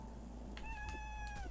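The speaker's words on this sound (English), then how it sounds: "Cat." A cat gives a single drawn-out meow that rises and then falls, heard over a steady low background hum.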